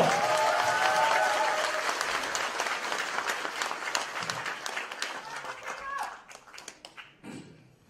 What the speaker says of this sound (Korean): 모두 큰 박수 한번 부탁드리겠습니다